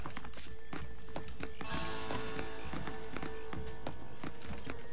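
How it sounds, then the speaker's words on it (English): Horse hooves clip-clopping in the Red Dead Redemption video game as the riders flee Blackwater, a steady run of hoof beats over a dense, busy mix of game sound. "The horses should be in an alleyway down here."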